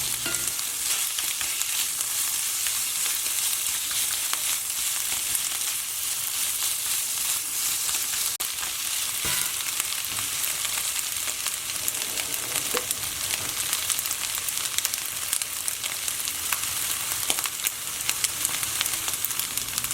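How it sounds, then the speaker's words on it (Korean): Minced salted fermented squid stir-frying for fried rice, giving a steady close sizzle with light scraping and stirring throughout, no voices. "다져놓은 오징어 젓갈을 넣고 볶아주세요."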